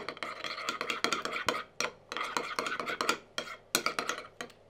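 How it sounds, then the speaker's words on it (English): A spoon stirs a yogurt sauce with crushed garlic in a bowl, producing quick bursts of close scraping and clinking in uneven rhythm, broken by short pauses between strokes. "Give that a mix up."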